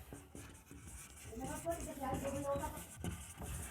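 Pen scratching on paper while working a word problem on linear equations, short strokes under a man's ongoing explanation.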